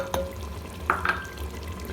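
Chicken stirred with salt, red chili powder, whole dried coriander and turmeric in a frying pot for degi chicken korma, giving a few soft scraping clinks over a low background sizzle.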